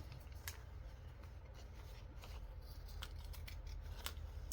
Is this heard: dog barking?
no